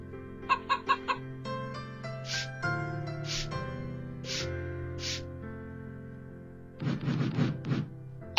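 Hen clucking in a children's cartoon story, a few short sharp clucks at the start and a quick run of clucks near the end, set over soft gentle music.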